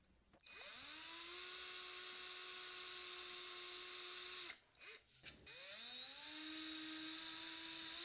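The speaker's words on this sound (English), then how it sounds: "drill some shallow holes with a Forstner bit" A power drill fitted with a Forstner bit bores shallow holes in a wooden shelf for stove feet, making a steady high whine that runs about four seconds, stops briefly, then restarts and spins on.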